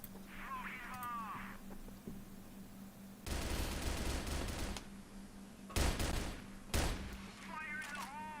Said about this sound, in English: Oh, nice wall bang from Beck.